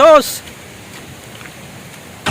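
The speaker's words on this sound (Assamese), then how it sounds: "পূৰা কমপ্লিট বৰষুণ দি আছে" Heavy rain falls on a forested hilltop as a steady, even wash of hiss that runs throughout, opening with a brief tonal call and ending with a short louder burst.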